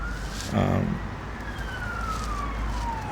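Emergency siren passing by outside, a faint wailing tone sliding slowly downward over steady background noise, with a short burst of voice near the start.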